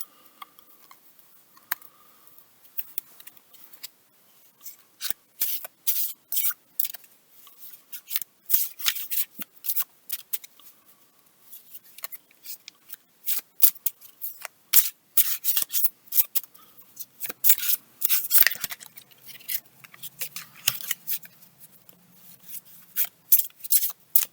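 Crisp, rapid flicks and snaps of cards being shuffled, coming in irregular clusters with brief pauses, close and fairly quiet, no talking.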